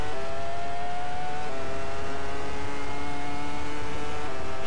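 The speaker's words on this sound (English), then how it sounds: "Take a listen to Heinz Petzold's car." Heinz Petzold's race car in a racing video game at the Grand Prix of Canada, a high-revving engine screaming near 17,000 RPM with steady whining tones and brief shifts, loud and continuous.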